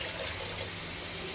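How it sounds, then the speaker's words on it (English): Water poured into a cooking pot on the stove while making fried rice, a brief steady splashing rush, fairly faint and alone. "Water join now."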